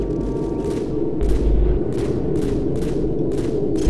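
Gunfire in the video game Modern Warfare 2 Spec Ops, a run of repeated heavy shots in a fairly even rhythm over a constant low rumble, loud and close.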